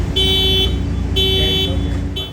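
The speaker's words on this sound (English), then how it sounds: "You can have the car honk its horn and flash its lights, so it's easier for you to find it." A Nissan car sounds its horn by remote command in a parking lot: two short, loud honks about a second apart, then the start of a third, with no talk over them.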